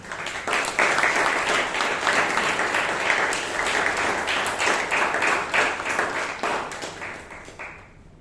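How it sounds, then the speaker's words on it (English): Audience applause at a Toastmasters club meeting in Bangalore, a lively burst of many people clapping that holds steady and then thins out and fades near the end. "Can we have another round of applause for everyone who came here on stage?"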